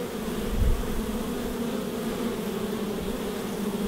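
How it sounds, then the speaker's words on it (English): Bees buzz at paradise bee boxes set in the shade under a gum tree, a dense, steady, close hum of many insects with no voices. "we've got our paradise bee boxes here that we've put our new little bees in"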